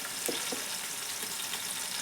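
Ginger paste frying in a hot pan, a soft continuous sizzle with a few brief stirring scrapes, close and moderately quiet.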